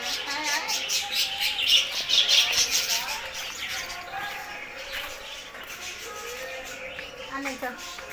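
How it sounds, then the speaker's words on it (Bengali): Budgerigars in a park aviary chirp and twitter continuously in dense, overlapping high calls, loudest early on, with some background noise. "দেখুন সুন্দর সুন্দর বদ্রি পাখি এখানে আছে।"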